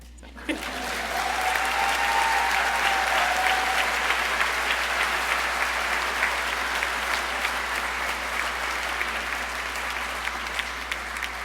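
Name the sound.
audience applause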